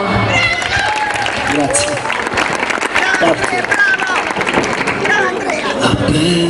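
Audience applause for the winner of a summer karaoke contest in Monteforte, steady dense clapping and crowd noise throughout, with a voice briefly speaking over it.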